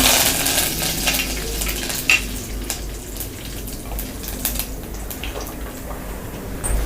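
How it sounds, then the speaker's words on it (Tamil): Mustard seeds splutter in hot oil while tempering for a Tamil pepper kuzhambu, giving a close, steady crackle scattered with sharp individual pops throughout, with no voices over it. "கடுகு நல்லா பொரிஞ்சிருச்சு."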